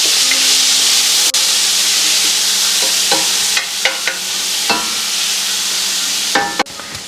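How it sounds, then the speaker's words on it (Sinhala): A spoon stirs chickpeas frying with salt, curry leaves and onion in a pan, a loud constant sizzle cut by scraping strokes and a few sharp clinks against the metal. "මේක හොඳට මේ කලවම් කර කර මේ හැන්දෙන් මේක බැදින්න අරින්න ටිකක්."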